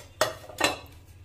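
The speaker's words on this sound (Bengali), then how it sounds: "ডালটা দেওয়ার পরে ভালো করে চালাতে হবে যেন ডালটা সুন্দর ভাজা হয়" Mung dal being stirred as it fries in a wok, heard as two close scraping strokes of a spatula against the metal over a low background hum, with no talking.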